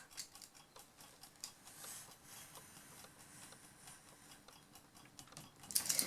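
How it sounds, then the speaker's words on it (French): Scissors cut paper for a baby photo album fold-out page, giving faint, irregular snips and rustles close by, with a slightly louder crisp burst near the end. "Je vais le découper."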